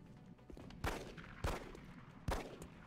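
Three sharp, separate shots from a pistol in XCOM: Long War, each a loud crack standing out above a quiet background, spaced roughly evenly.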